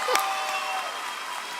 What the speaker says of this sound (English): I'm going to give her another round of applause because that was amazing, Abby.